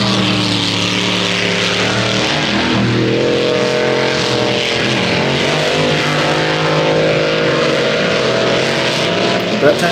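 Powerful racing power boats roar past on the Upper Hawkesbury River at Windsor, with loud, sustained engine whine rising and falling in pitch as the boats speed by.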